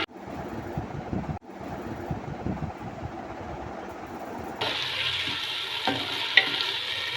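Garlic and green peas frying in a pot over a medium flame for matar pulao, a steady close sizzle with stirring scrapes that grows brighter and louder partway through, with no talking.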